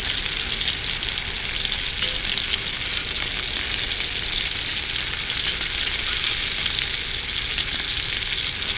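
Hamburger steak and potatoes fry on a cast iron griddle with a steady, loud, even sizzle that hisses without a break from start to finish, and no one speaks.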